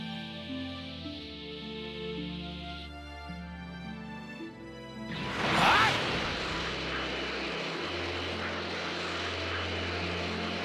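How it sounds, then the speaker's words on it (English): Drones flying around in the Dragon Ball Z Kakarot video game give a steady droning, propeller-like hum with layered tones, broken midway by a loud whooshing swell before the hum resumes. "There are drones flying around here."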